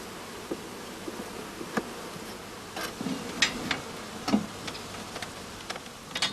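Honey bees buzz around a hive in a quiet setting, with faint soft hum and scattered brief louder buzzes and ticks as individual bees pass close by.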